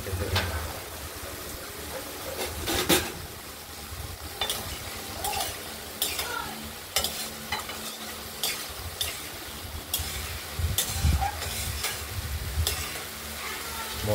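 Masala of spices and oil sizzling in a pan on the stove while a spoon stirs and scrapes it in irregular bursts, close and continuous with a steady frying hiss underneath.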